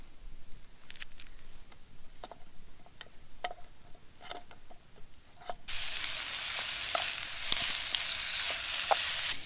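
Jimmy Dean maple sausage frying in a pan at a campsite, a soft crackle with scattered pops that jumps into a loud, steady hiss partway through.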